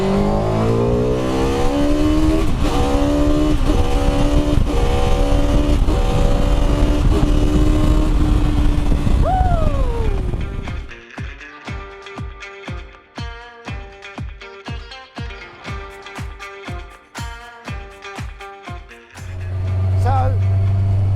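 A high-revving Honda motorcycle engine in a Shayman kit car screams up through the gears toward 14,000 rpm, then drops to a rapid, rhythmic idling pop before roaring again; loud and close.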